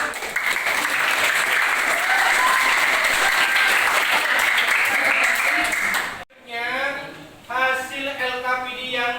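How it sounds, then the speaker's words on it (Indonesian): A classroom audience claps together in steady, dense applause for about six seconds, then the clapping stops and a single voice begins talking. "Kita kasih aplaus"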